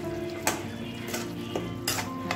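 Masala paste of garlic, cumin and ginger goes into a pan of frying mutton curry, with a low sizzle under three sharp clinks of a spoon against the pot as it is stirred.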